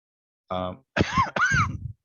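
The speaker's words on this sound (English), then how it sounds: "Excuse me, got my cough back" A person coughs and clears their throat indoors, a short rough burst followed by two harsher, voiced coughs, close and fairly loud against silence.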